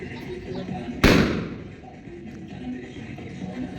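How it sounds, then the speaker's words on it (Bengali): Firecrackers (chorki) set off at a family celebration: one sharp, loud burst with a decaying crackle, over a steady background of people talking and festive noise. "চুরকি ফাটাও, চুরকি।"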